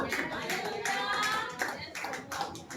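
Small children clap along during a Hindi church worship service, with uneven, scattered hand claps in a reverberant hall and some voices mixed in underneath.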